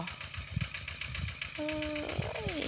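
A walking tractor engine chugs steadily while plowing a rice field, with a rhythmic low thumping pulse. A brief tonal whine rises over it near the end.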